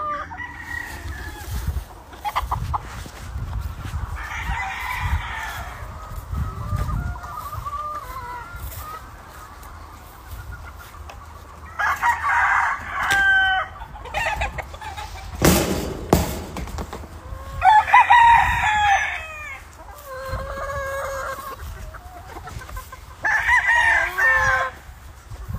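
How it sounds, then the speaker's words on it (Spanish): Gamefowl roosters on a farm, including Kelso and Red Fox birds, crow repeatedly at moderate distance with scattered clucking in between; the crows come in several separate bursts over steady outdoor background noise. "Chulada de gallina."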